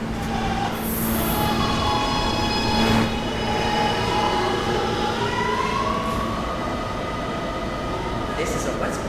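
An R143 subway car on the N line runs steadily underway, with a continuous rumble, rail noise and faint wheel squeal throughout, plus a brief burst of high hiss early on.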